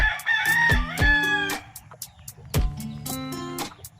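A gamefowl rooster, a Black Velcro and Hatch battle cross, crows loudly and close by, two full cock-a-doodle-doo calls in quick succession with no talk.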